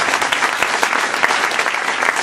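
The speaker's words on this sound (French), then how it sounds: "J'aimerais bien qu'on les applaudisse aussi." An audience applauding at the launch evening of the Travelling film festival in Rennes, a sustained, even burst of many hands clapping in a hall, loud and close throughout.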